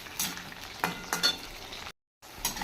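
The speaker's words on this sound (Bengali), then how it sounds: "নুন দিয়ে আলুটা পেঁয়াজের সঙ্গে ভেজে নেব।" Potatoes frying with onions and salt in a pan, a steady close sizzle broken by a few stirring scrapes and a brief dropout, with no talk.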